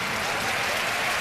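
A dense, steady burst of applause from a large arena audience at a gymnastics apparatus final at the 2007 Pan American Games, short and evenly loud throughout.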